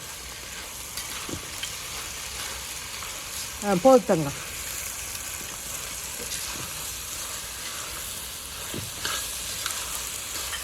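Faint frying sizzle and hiss of dried red chillies sautéing in a pan, with a brief stirring clatter and a short voice exclamation partway through.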